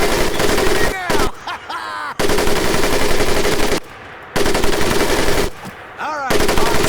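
Machine gun fire in the Medal of Honor Pacific Assault video game, loud sustained bursts of rapid shots broken by short pauses, with shouting and effects in the gaps.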